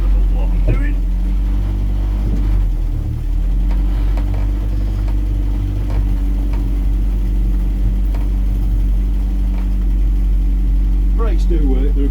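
A Land Rover Series 2A 109 engine drones steadily while driving, a constant low rumble with cabin rattle beneath it, and someone talks briefly over the noise.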